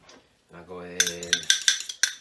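Eggs being whisked in a small bowl: a short burst of quick, bright metallic clinks of a utensil against the bowl, about five or six rapid strokes following a brief hum.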